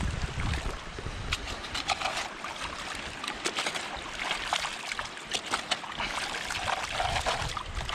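Water sloshes and trickles as beach sand dug up while treasure hunting is swished and rinsed, with irregular splashes and gritty churning, close and continuous.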